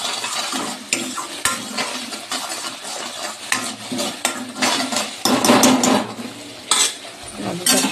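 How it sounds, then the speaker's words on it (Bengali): Spice masala with turmeric and cumin powder is stirred and fried in a pan for a vegetarian dish, a steady sizzle broken by repeated clattering scrapes and knocks of the spoon against the pan. "মশলাটা ভালো করে কষিয়ে নেব"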